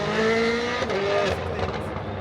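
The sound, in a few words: WRC rally cars passing on super special stage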